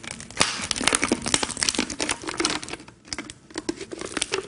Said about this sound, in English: I'm just going to take my blade, and I'm going to cut at the top part here.